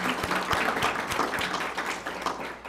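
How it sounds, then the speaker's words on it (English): An audience at a chamber of commerce luncheon applauds, a close, steady burst of many hands clapping with no pause throughout. "please join me in giving yourself a round of applause for all you've done"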